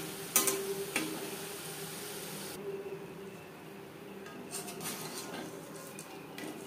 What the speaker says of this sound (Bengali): প্রত্যেক ব্যাচের নিমকি ভেজে নেব।